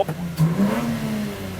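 Naturally aspirated Lexus IS200 revving on a dyno: a loud, close engine note climbing in pitch in one sustained pull, then holding a strained high rev with no voices.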